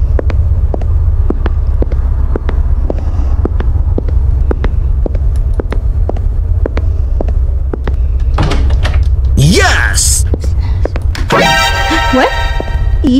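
A door creaks open in a horror video game, a drawn-out groaning creak followed by a rattling clatter, all over a steady, throbbing heartbeat-like pulse and a low hum.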